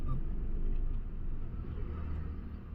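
A car engine stalls during a driving lesson: a low, quiet idling rumble that sags and drops off about a third of the way in, with a faint voice nearby.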